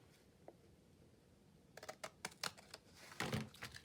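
Scissors make a quick series of quiet, crisp snips through a reused paper mail envelope, close by after a near-silent start.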